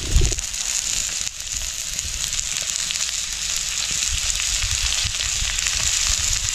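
Onions sautéing in a pan for a fish curry, a continuous loud sizzle and crackle with light stirring and a brief clatter at the start, no voices.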